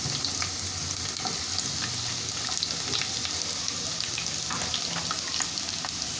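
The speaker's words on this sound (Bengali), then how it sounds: "এখানে আমি পেঁয়াজ কুচি দিয়ে দিব" Chopped onion and green chilies fry in a pan for a mixed vegetable bhaji, with a continuous close sizzle and occasional light stirring scrapes and taps.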